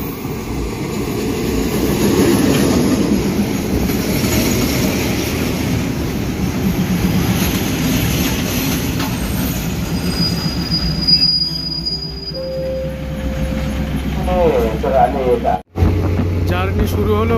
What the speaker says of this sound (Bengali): দেখা যাক ট্রেনটা কেমন হয়, কতক্ষণ লাগে পৌঁছতে।